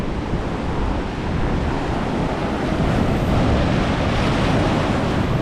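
Sea waves surging onto Anjuna beach in Goa, a continuous loud rushing wash of surf with wind buffeting the microphone, steady throughout with no voices.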